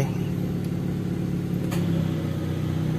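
Daihatsu Taruna EFI engine idling steadily at close range, a continuous low hum with no revving or surges throughout, a couple of faint clicks along the way.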